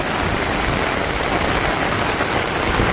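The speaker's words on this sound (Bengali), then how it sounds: "দেখেন সাদা হয়ে রয়েছে বৃষ্টিতে, একদম ছাতা উল্টা উল্টা হয়ে যায় বাতাসে" Torrential village downpour driven by strong wind, a loud, unbroken hiss and rush of water filling the space nearby without any talking.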